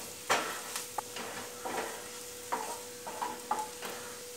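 A spoon scrapes and stirs black pepper and chilli powder into a sizzling pan of mutton curry masala, with about eight distinct, close scraping strokes at an uneven pace over a soft frying hiss.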